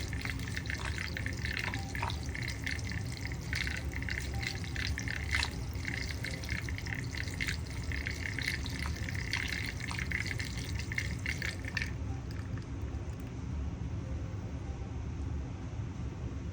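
Lead hypophosphite solution being stirred on the heat, a steady watery swirling and light trickling with faint clinks, continuous and fairly quiet; the upper hiss drops away near the end.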